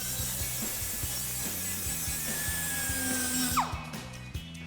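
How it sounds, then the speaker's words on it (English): A handheld grinding tool runs steadily against the cut edges of a steel exhaust pipe on a Silverado 2500, a close, quiet whirring with a faint rhythmic ticking, then winding down at the end. "we're just gonna grab a grinding tool and just clean that up"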